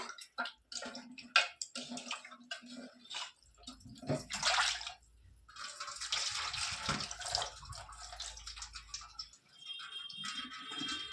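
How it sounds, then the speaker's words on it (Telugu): Drinking water poured and used for washing, heard as close splashing, trickling and rattling that swell into a sustained running-water rush, then drop to lighter dripping and clatter at the end, with no speech. "మంచినీళ్ళు కూడా పోసి ఒకసారి అయితే కడిగేసుకుంటున్నాను."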